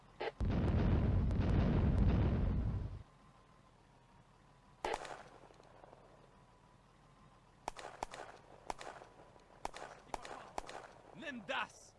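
In the WWII tactical game Firefight, a Soviet artillery salvo opens with a loud roaring blast lasting a few seconds. Quieter scattered impacts and clatter follow, with a voice talking partway through.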